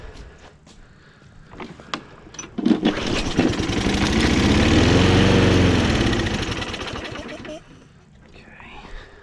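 A Toro push mower's small engine fires up and runs for several seconds, its chugging drone swelling loud and then fading as it dies, with someone talking nearby before and after.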